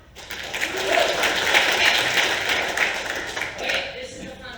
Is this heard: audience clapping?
yes